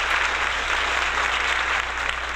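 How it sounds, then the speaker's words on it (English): A crowd applauds steadily, a dense wash of clapping at even loudness for a couple of seconds with no talking. "can we give Quavo a round of applause one time"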